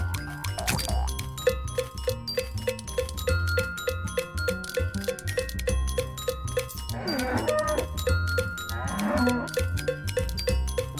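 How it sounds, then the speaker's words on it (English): In the Shadows Over Loathing soundtrack, cartoonish cow moos rise out of bouncy percussive game music with cowbell-like hits and springy boings, two loud drawn-out lows standing out over the steady beat. "Oh my god, time for mooing."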